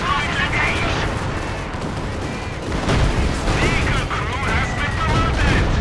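Howitzer shells and gunfire rumble through a dense Company of Heroes 2 battle as tanks and field guns engage, a constant loud roar of blasts and crackling fire layered with a voice talking over it.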